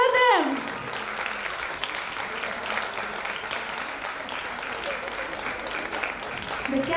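An audience at a school annual day bursts into sustained applause, a dense wash of clapping that holds steady throughout, with a voice speaking briefly at the start and end.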